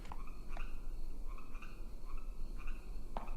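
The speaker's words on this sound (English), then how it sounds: "A lot of frogs." Several frogs croak in a video game, a steady chorus of repeated croaks spread over background ambience, with no talking.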